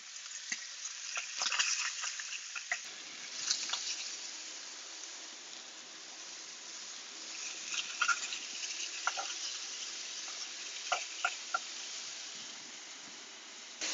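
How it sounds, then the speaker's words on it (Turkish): Octopus arms sizzle and fry in a hot pan, giving a continuous, fairly faint crackle with scattered sharper pops and spits throughout. "Tava iyice kızdıktan sonra salarımızı alıp şu şekilde tavaya yerleştiriyoruz."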